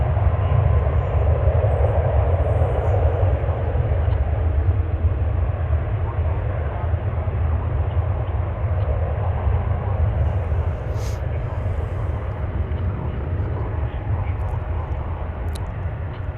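A Lufthansa airliner at DFW International Airport rumbles in a steady, loud low roar that holds throughout without letup.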